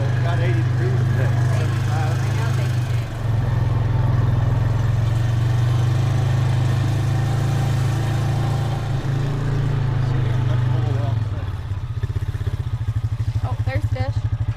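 A car engine hums steadily and loudly while driving, a low constant drone that holds throughout, with people talking over it and a brief dip near the end.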